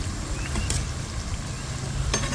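Spices and onion fry in a pan for restaurant-style chicken jalfrezi, giving a steady close sizzle with a few brief clinks of stirring and no voices.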